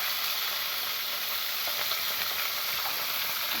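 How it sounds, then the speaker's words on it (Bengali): Fish heads frying in hot oil in a pan for muri ghonto with moong dal, giving a steady, dense, close sizzle that stays even throughout with no talking. "এক পাশে ভাজা হয়ে গেছে, আর এক পাশে ভেজে নেব"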